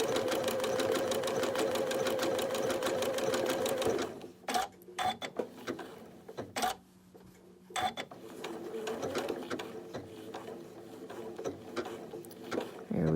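A sewing machine runs in a rapid, even stitching burst for about four seconds, then gives a few isolated single stitches and short runs while a leaf tip is sewn, with a person talking quietly in between.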